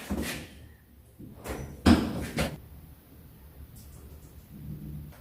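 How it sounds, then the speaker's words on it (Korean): Several sharp knocks on an apartment front door fitted with a soundproof door, spaced unevenly, with a louder rap in the middle, over a low background rumble. "초인종 말고 문을 노크를 해보세요."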